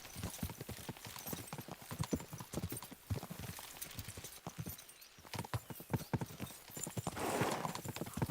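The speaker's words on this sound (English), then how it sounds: "We should spur the horses on." Horses gallop in Kingdom Come: Deliverance 2, a rapid, loud clatter of hooves close by with a brief neigh near the end and some talk mixed in.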